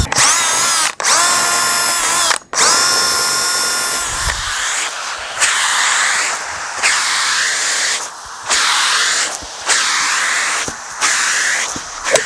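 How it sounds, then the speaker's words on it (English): A power drill boring holes in a wooden footstool base, several loud whining bursts with short pauses between them, the motor pitch rising and falling as each hole is drilled. "So now we need to drill holes."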